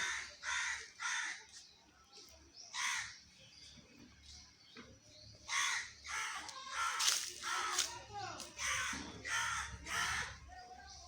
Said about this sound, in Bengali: এই কাক